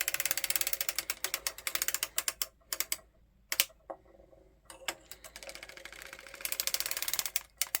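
A circular sock machine cranked by hand for a fingerless glove, rapid rattling ratchet-like clicks in a steady run that pauses briefly mid-way before resuming, close and alone.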